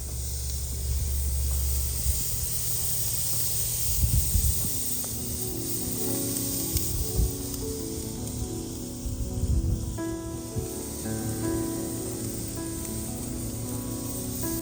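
Filet mignon searing outdoors in freezing cold while being basted with melted butter and rosemary: a continuous close sizzle and hiss with occasional louder spattering bursts, steady throughout.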